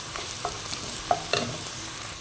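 Beef hits a hot pan and fries with a dense, close sizzle, punctuated by a few light clinks and scrapes of a utensil stirring the meat, no voices over it.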